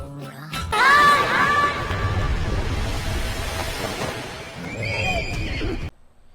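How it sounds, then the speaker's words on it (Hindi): A horse neighs loudly near the start in a high whinny, followed by a second fainter whinny later, with crowd-like background noise throughout and no talking. "घोड़ा।"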